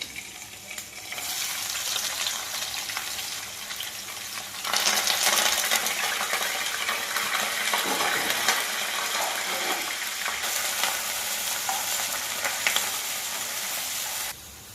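Chopped onion and green chilli pieces fry in a home kitchen pan for a Telugu pepper rasam and potato curry, giving a steady broadband sizzle that swells louder midway and carries faint stirring clinks, with no talking.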